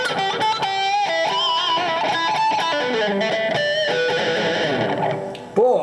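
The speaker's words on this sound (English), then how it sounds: "You can hear that spring reverb." Electric guitar through a Zoom G2 Nu multi-effects unit with spring reverb, playing a continuous lead line of bending, sliding notes with a splashy reverb tail, fairly loud and steady, ending with a short louder burst.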